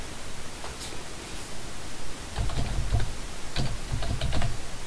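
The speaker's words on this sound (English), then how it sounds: "You put in your password there, authenticate it" A password is typed on a computer keyboard in a series of soft, close key taps, sparse at first and then coming in quicker clusters, over a steady background hiss.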